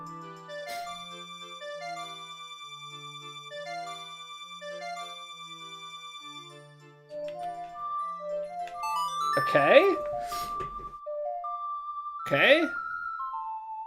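A melody plays on the ocarina in Zelda: Ocarina of Time, a clear run of steady tones in a lilting rhythm. Brief spoken voices and other game sounds break in near the end.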